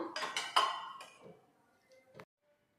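Potato and fenugreek leaf fry being served from a pan into a dish, a few close metallic clinks and scrapes of a spoon, then a last faint clink.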